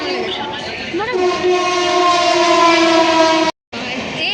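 A train at a railway station gives out loud, sustained horn-like tones that hold steady for several seconds, cut by a brief drop to silence near the end.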